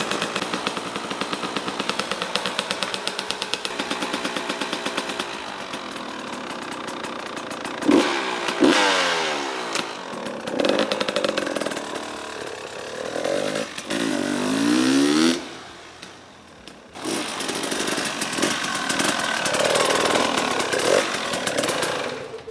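A motorcycle engine runs on a test ride, a rough, buzzing pulse that rises and falls with throttle changes and gearshifts, dropping out briefly before revving back up, loud and close throughout.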